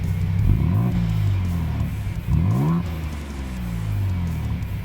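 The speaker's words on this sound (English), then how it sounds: "Raptor gets a true dual exhaust system with active valve technology" A Ford Bronco Raptor revs twice through its throaty dual exhaust with active valves, each rev rising and falling sharply over a deep, rumbling idle.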